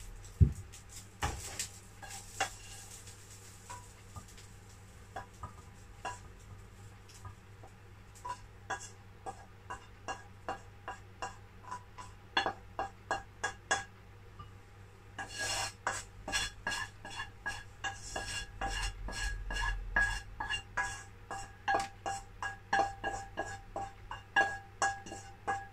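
Stir-fried prawns in garlic and pepper being scooped out of a pan into a bowl, heard as a long series of close metallic clinks and scrapes that grow denser and busier in the second half, with no speech.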